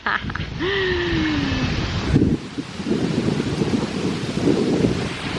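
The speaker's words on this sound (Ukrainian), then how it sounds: "Ох і вітер." Strong hurricane wind roars and buffets the microphone continuously, gusting loud throughout with rustling noise and no talking.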